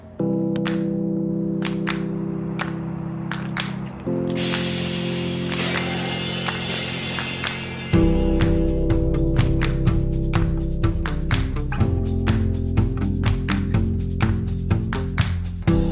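A Škoda Octavia G-Tec takes on compressed natural gas at a filling station: a steady mechanical hum with rapid ratcheting clicks, then a loud rushing hiss of gas for several seconds before the pulsing mechanical drone returns, with no talking.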